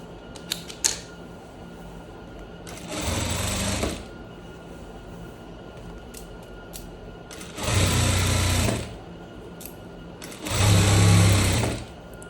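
Sewing machine stitching a seam on a striped shirt in three short whirring bursts, with quiet pauses and small handling clicks between them, close by.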